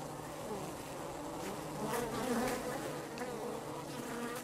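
Bees buzzing in the video game Arid, a steady dense drone that swells slightly midway and continues without pause.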